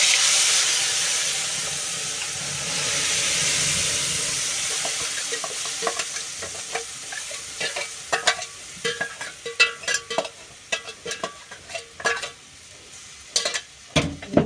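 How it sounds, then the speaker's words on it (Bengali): Spice paste hits hot oil in a wok with a loud, steady sizzle and hiss that gradually settles, followed by irregular scraping and stirring clatters close by. "তেল আমার গরম হয়ে গেছে এবার দিয়ে দেবো"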